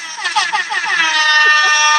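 A blaring air horn sound effect, loud and close, holding a harsh buzzing tone for about two seconds with a wavering start and no talk over it.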